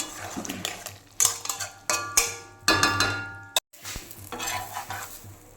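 Triangular parathas fry in a pan, with scraping and clinking of a metal utensil against the pan in short separate bursts over a faint steady sizzle, briefly cut off and then resuming.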